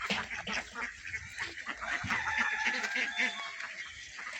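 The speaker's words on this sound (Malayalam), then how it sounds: "മുട്ട ഇട്ടുകൊണ്ടിരിക്കുന്ന താറാവുകൾ അത് വിശാലമായി അവർ ഓടി നടക്കുക" Laying ducks roam freely across an open farm field, several birds quacking and honking in a steady overlapping chorus at close to middle distance.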